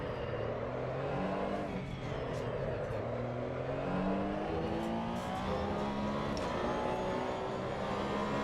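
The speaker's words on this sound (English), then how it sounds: "I shifted up and it actually spun the tires a little bit mid-turn and kicked the rear out just a hair" A racing car in Assetto Corsa Evo with its tires spinning mid-turn: a loud, continuous engine drone with shifting pitch that rises and falls through the turn, heard close and steady throughout.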